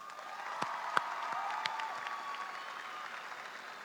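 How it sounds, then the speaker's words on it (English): A large crowd at a high school commencement ceremony applauds from a distance, a soft, continuous roar of clapping with a few sharper nearby claps and faint cheering mixed in. "Let's give your awesome principal, Mr. Tovar, a round of applause."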